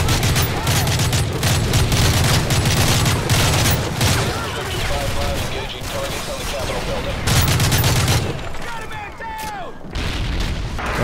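Rapid gunfire from a sniper rifle and other weapons in the shooter game Call of Duty Modern Warfare 3, loud repeated shots and booms with a steady low hum beneath and brief talk mixed in.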